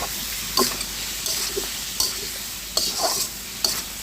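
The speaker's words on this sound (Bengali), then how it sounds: "গরম জলটা দিয়ে এখন একটু নেড়ে ছেড়ে দিচ্ছি" A spoon scrapes and clinks around a pot of fish-head and potato curry just after hot water goes in, several distinct stirring strokes over a soft, steady simmering hiss.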